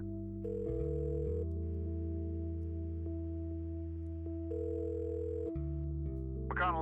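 A steady, loud telephone dial tone hums alone for several seconds in the Kathy Rain video game, broken by a brief click midway and ending with a short burst of electronic noise.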